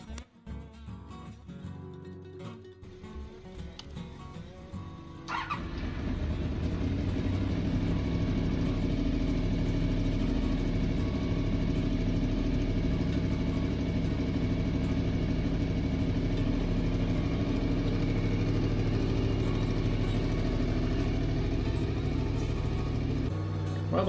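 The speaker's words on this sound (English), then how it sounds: "While the bike was warming up" A Honda VFR 750 (RC36) motorcycle idles steadily while warming up after a jump start, a close, continuous low engine drone that settles in after a few seconds of quieter, uneven noise.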